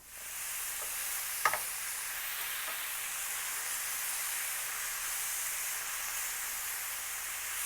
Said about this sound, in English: we're gonna saute the meat until they're browned and they're like cooked from the outside